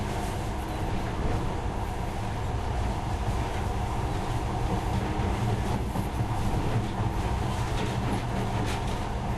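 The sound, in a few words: monorail train in video game Metro Last Light Redux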